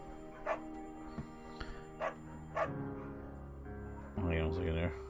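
A dog barks in the video game Firewatch, several sharp separate barks and yips spread over a few seconds, with a whimpering tone near the end.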